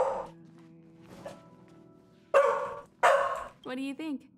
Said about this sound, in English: Sorry, my dog.